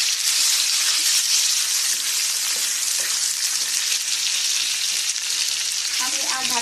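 A whole hilsa fish frying in an uncovered pan, a loud, close, continuous hissing sizzle of hot oil with a slight bubbling crackle toward the end, no talking.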